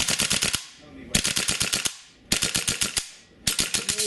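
A WE AK74-UN open-bolt gas blowback airsoft rifle fires full auto in three sharp, rapid bursts of loud, clattering shots with short pauses between them, heard close.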